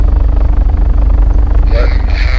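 Helicopter engine running at full throttle in the flight game Take On Helicopters, a loud, steady low rotor and turbine drone that fills the whole clip, with a brief higher tone near the end.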